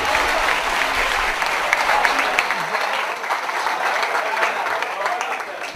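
An audience at a humorous Punjabi and Urdu poetry recital breaks into sustained, dense applause that fills the whole stretch before easing slightly toward the end.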